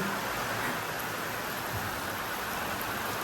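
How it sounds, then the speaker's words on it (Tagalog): Dense, steady hiss of heavy rain pouring down on a rooftop without pause, a broad wash of noise that stays even from start to end. "Ayan na, buhos ng malakas na ulan."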